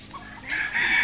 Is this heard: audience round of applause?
no